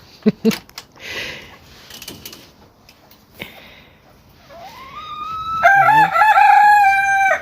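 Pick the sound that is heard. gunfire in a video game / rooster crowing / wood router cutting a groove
rooster crowing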